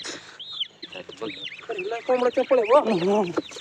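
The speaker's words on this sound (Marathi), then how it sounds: "कोंबडी" Village chickens cluck and squawk close by in a rapid, rising series of calls, mixed with voices in a rural farm setting.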